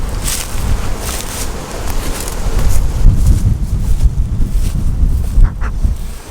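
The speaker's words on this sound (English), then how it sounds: "It's actually now getting quite windy" Wind blowing outdoors beside a beehive, a loud continuous gusty rumble buffeting the microphone, swelling and easing throughout with no talk.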